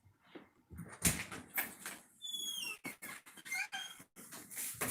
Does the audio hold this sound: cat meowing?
no